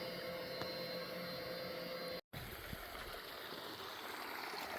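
Water gushes steadily from the outlet of a free irrigation pump on a farm, a constant rushing hiss that breaks off for a moment and then resumes, with no talking.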